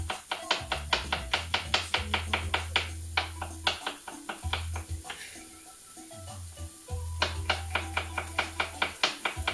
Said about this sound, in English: I'm going to start with a couple of cloves